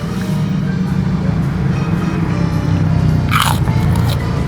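Crunchy bites of gado-gado, water spinach and bean sprouts in peanut sauce from a motorbike food cart, chewed close up with a sharp crunch near the end over steady low street and traffic rumble.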